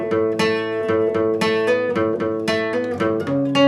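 Guitar plays a slow run through the opening riffs of a song, a steady sequence of picked notes and chord stabs, close and clear without speech.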